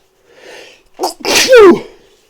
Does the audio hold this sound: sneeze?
yes